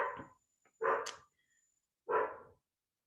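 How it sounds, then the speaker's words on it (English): A dog barks three separate times, sharp and fairly close, with quiet pauses between the barks. "Can you hear my dog, Amanda?"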